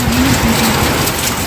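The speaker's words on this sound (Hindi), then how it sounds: "देखिए कितना जोर बारिश हो रहा है" Heavy monsoon rain pounding on a house rooftop, a dense, loud, continuous roar of downpour with no voices.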